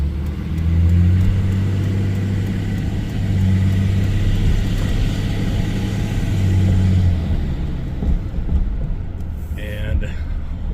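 A third-generation Dodge Ram with a Cummins 5.9 diesel and BorgWarner S364SX-R turbo idles close by, a steady low rumble with a faint hum running underneath, while people talk over it.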